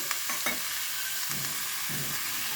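Pumpkin curry sizzling and frying in a pan as water from rinsing the spice bowl is poured in, with a steady hiss and a few stirring scrapes close by.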